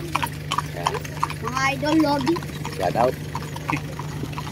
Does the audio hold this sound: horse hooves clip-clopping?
yes